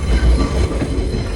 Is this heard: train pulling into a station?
yes